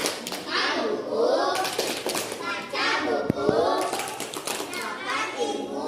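Schoolchildren clap a rhythmic literacy chant together, bursts of hand claps mixed with their chanting voices in a classroom, lively and close.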